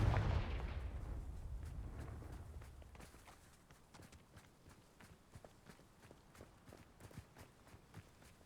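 A Confringo fire spell blasts off in Hogwarts Legacy, opening with a loud, booming burst that fades over a few seconds into scattered sharp crackles and small impacts, with no talking.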